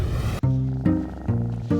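Cats in a crowded cat house, with a loud low cat vocalization first, then repeated rhythmic purring or growling pulses close to the microphone, each lasting under half a second.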